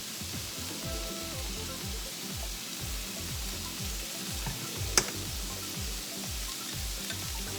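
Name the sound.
sesame oil added to pan sizzling, fried milkfish dish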